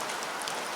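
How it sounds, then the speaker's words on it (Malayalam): Heavy rain falls steadily in Idukki during a red-alert downpour, a dense continuous hiss of drops on surfaces, close and even, with no voices. "ഇപ്പോൾ നമുക്ക് മഴ പെയ്തുകൊണ്ടിരിക്കുകയാണ്."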